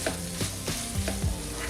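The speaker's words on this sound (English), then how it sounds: "I'm just going to give that a stir." Garlic, chilies and red peppers sizzle in a frying pan while being stirred, a steady close hiss broken by several soft scraping strokes of the utensil.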